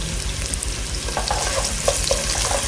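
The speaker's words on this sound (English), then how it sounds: "We're gonna get these onions sauteed a little bit." Onions sauté in a hot pan for black bean chorizo, a steady close crackle and sizzle with small pops and faint stirring scrapes throughout, and no voices.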